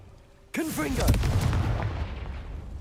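The Confringo blasting spell going off in Hogwarts Legacy: a sudden sharp boom that rolls into a long, crackling, fading rumble, loud and near, with a short bit of speech just before the blast.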